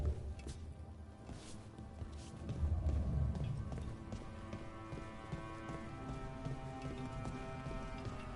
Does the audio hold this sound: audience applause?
no